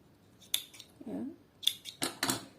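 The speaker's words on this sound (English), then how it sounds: "I'll cut this thread here." Scissors snip through sewing thread at a Bernette Sew and Go 8 sewing machine, giving two sharp, close metallic clicks about a second apart, then a few rustling handling sounds. No one speaks.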